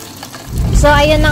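Water hits pork pata frying in hot oil over medium heat with a sudden loud hiss and crackling sizzle that keeps going, while a voice talks over it.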